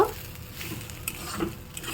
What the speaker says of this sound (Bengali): পটলটা দিয়েও খুব সুন্দরভাবে একটু ভেজে নেব।